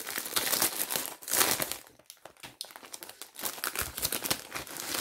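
A plastic-packaged rug-making kit for a knotted-stitch football rug being opened, with loud close crinkling and rustling of wrapping in bursts, a brief quieter pause around the two-second mark, then more crumpling.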